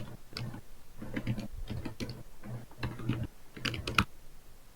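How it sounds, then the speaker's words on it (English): Keys on a computer keyboard clatter in irregular bursts of quick taps, moderately close and fairly quiet, with short pauses between flurries and no voices. "Somebody is typing."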